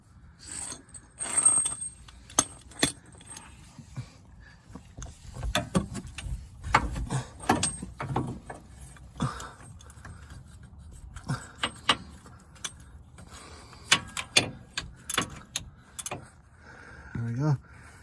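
A socket wrench ratchets on the oil pressure sensor of a 5.7 Hemi in a 2014 Dodge Durango, worked from underneath: scattered, close metallic clicks and scraping rubs come in short irregular bursts, with faint low murmuring in the background.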